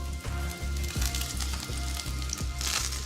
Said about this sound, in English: Once the fish fingers are thoroughly coated, they're ready to pan fry